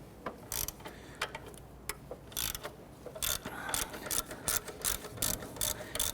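A ratchet loosening a 12mm bolt on a 1992-1996 Toyota Camry 2.2L four-cylinder during water pump housing work, with repeated bursts of close, loud clicking pawl strokes separated by short pauses.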